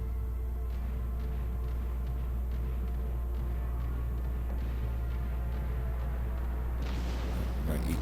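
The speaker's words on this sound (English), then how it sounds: "this guy's getting torpedoed hard" Heavy booming impacts from torpedo hits on a ship in World of Warships Legends, a dense rumbling barrage of explosions and gunfire, loud and continuous with a sharper burst near the end.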